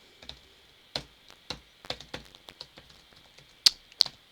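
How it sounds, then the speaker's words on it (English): Minecraft command being typed on a computer keyboard: a run of separate, irregular key clicks, close and fairly crisp, with a couple of louder taps near the end and no talking. "Sorry, typing that command."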